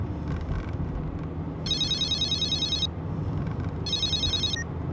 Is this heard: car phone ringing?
yes